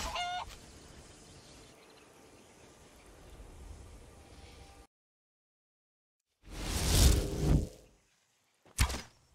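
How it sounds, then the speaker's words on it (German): A chicken in the video game Skyrim clucks in short, loud bursts after a stretch of quiet ambient game sound and a moment of silence, with a final brief squawk at the end. "Ein Huhn."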